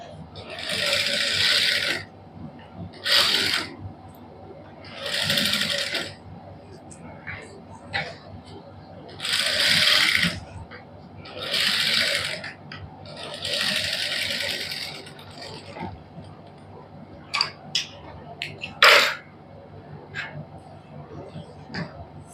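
A sewing machine stitches a thick hem along a turned-in neckline, running in several bursts of one to two seconds with quiet pauses between, close and loud over a low hum, while someone talks quietly.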